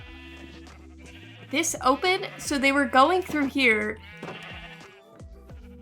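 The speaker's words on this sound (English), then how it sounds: "I saw a bunch of sheep just everywhere." Minecraft sheep bleat repeatedly in the middle, a run of close, loud wavering cries from a game's livestock pen while a person talks before and after them.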